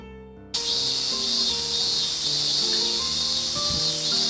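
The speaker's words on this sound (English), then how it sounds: "The cicadas called loudly." Loud, dense cicada chorus in the visual novel Narcissu, a steady high buzzing drone that begins abruptly after a brief quiet opening with soft piano notes and continues unbroken over a faint melody.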